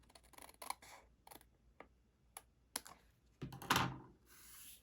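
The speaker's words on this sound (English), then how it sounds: "I just grab my paper snips, I flip it over, and custom cut off the edge there." Paper snips trim the edge of a greeting card in a crafting setup, giving several short, crisp snips and clicks close up, ending in a longer cutting rasp, with no talk.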